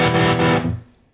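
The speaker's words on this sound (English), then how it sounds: "You can hear the distortion on that" A guitar played through the normal pickup of a Roland GR-55 with distortion switched on: a single thick, buzzy chord rings loud, then cuts off sharply and fades in under a second.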